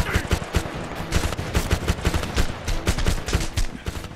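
Enemy gunfire in the shooter Homefront, rapid repeated shots in an uneven automatic rhythm, close and loud throughout.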